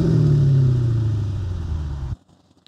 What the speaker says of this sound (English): it makes that absolutely glorious V8 noise.